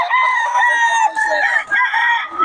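Sweater gamefowl roosters at a market in Bocaue crow loudly and close, overlapping harsh calls with clucking between them, and voices murmur faintly in the background.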